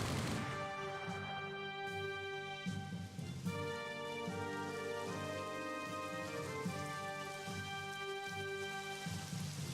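Steady rain falls across a World War II battlefield in the strategy game Strategic Mind: Fight for Freedom, a constant close hiss layered with sustained musical tones and no voices.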